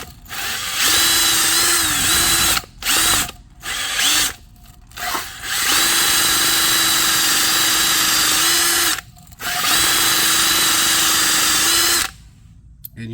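A powered metal wire brush scrubbing the aluminum wheel hub of a Mercedes S550, loud whirring bursts of several seconds each, separated by brief pauses as the tool stops and restarts.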